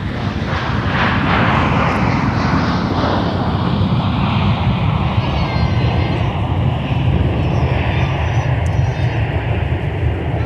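An Air France airliner arriving at Minneapolis–St. Paul airport gives a loud, continuous jet roar close by, steady throughout with a whining engine tone rising over it partway through.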